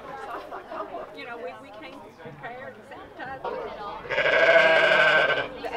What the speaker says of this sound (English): And here are two Jacob sheep with their mom.